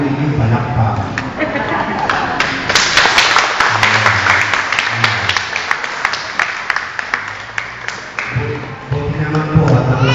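Congregation clapping at an El Shaddai worship gathering, a dense sustained patter of many hands that swells mid-way and then thins, with talk and room noise running underneath throughout.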